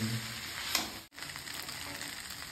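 Chowmein noodles fry in a pan with a faint, steady sizzle, broken briefly by a stir or clatter partway through, with no talking.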